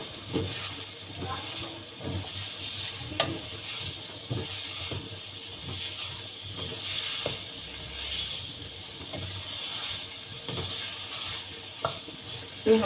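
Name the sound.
stirring carrots in a pot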